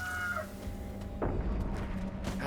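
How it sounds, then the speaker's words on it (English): A rooster in Sekiro crows briefly at the start over a low, rumbling game ambience, followed by a muffled thud; the call sounds faint and somewhat distant. "but there is a rooster on the roof"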